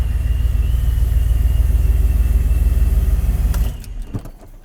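A Chevrolet Silverado truck is held on two-step launch control. Its engine makes a loud, steady, pulsing low rumble that drops off abruptly near the end, followed by a few faint clicks.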